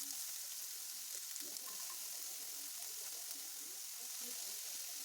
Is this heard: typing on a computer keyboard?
no